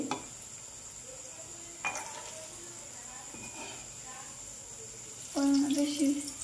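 Sweets frying in hot oil in a pan, a soft steady sizzle running throughout with a brief stir near the middle and a louder bubbling burst toward the end, faint voices in the background.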